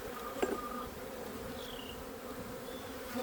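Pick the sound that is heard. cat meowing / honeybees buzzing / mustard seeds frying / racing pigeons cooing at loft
honeybees buzzing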